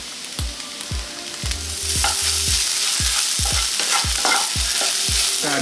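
Egg frying in a pan over medium heat, with a steady sizzle throughout and repeated sharp knocks of a utensil stirring and scraping against the pan, close and fairly loud.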